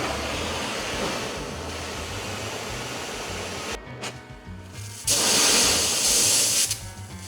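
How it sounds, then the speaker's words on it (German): An oxy-acetylene torch roars with a steady, close, broad hiss while silver-brazing, briefly dipping before surging louder again. "Autogenanlage. Kann man schweissen und hart löten."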